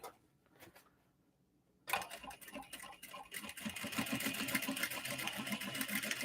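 A sewing machine stitches fabric for a clutch made from obi and kimono fabric. After a quiet start it kicks in abruptly and runs with a fast, even mechanical whir and chatter that grows slightly louder and steadier. No one speaks.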